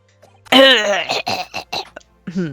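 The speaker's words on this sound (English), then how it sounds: "I won't cough into your food, I promise." A loud, close burst of harsh coughing, several rough hacks in quick succession with short pauses between them.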